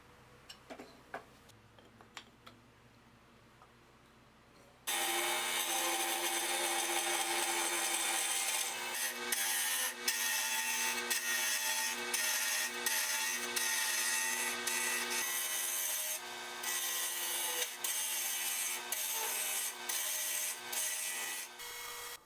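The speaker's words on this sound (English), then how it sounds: "so I went to the lathe to turn some more" Wooden dowels of about 1.5 inches being turned on a lathe: after a few quiet ticks, the machine starts with a loud, continuous whirring scrape of tool on spinning wood that holds steady to the end.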